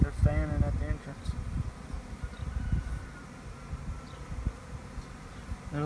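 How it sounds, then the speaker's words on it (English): A swarm of honeybees fanning at the entrance of a hive makes a steady low buzz and hum, close and moderately quiet, with faint background noise and occasional louder passes. "They're fanning at the entrance."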